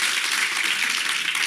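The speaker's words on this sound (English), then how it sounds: "I think that deserves some applause." Audience applause at a women's empowerment and leadership event: steady, dense clapping from a crowd, heard alone at moderate volume for about a second and a half.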